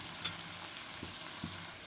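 Potatoes pan-roasting for kanda poha with curry leaves, a soft steady sizzle with a couple of light stirring clinks, quiet and close, no voices.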